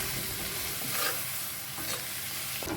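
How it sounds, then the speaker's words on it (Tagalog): Sliced beef sautés in a hot pan, a dense crackling sizzle with scraping stir strokes, close and continuous. "Ilagay natin yung hiniwa nating karne ng baka at igisa natin."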